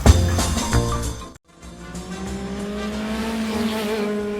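A motorcycle speeds by at night: a loud engine burst, a brief drop, then a strong rising revving roar that holds to the end.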